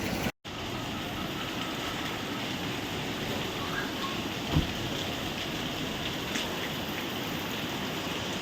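Heavy rain in Chikmagalur pours down steadily, a dense continuous hiss of drops striking surfaces, loud and unbroken throughout with no talk.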